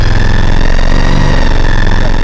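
Loud, close motorcycle engine running steadily at raised revs while being warmed up for winter storage, a continuous throbbing drone with no talking.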